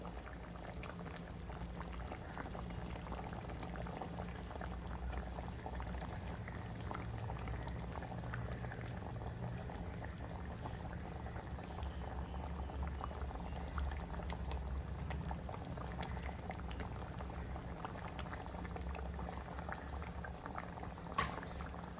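Second coconut milk boils in a pan for Kerala-style mackerel pollichathu, a steady low bubbling simmer that runs unbroken and fairly quiet.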